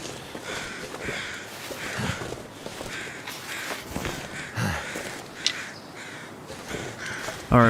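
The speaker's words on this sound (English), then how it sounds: "I'm hearing crows" Crows caw ahead in the snowy wilderness of the survival game The Long Dark, a few short calls surfacing over steady wind and footstep-like crunching, with talk over much of it.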